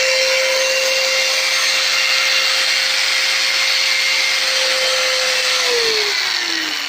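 A new handheld angle grinder runs freely, giving a loud, steady, high whine with a constant hum that begins to drop in pitch as it spins down near the end. No one speaks.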